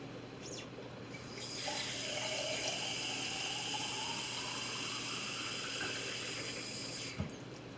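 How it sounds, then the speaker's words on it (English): Water pours from a jar into a crock pot, a steady gushing splash lasting several seconds at close range, soft and even, ending with a small clunk. "I'm adding 1 jar of water to the crock pot."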